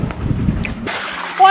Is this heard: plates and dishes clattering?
no